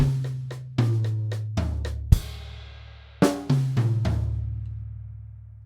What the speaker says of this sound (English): So we'll put those 2 bars together, bars 19 and 20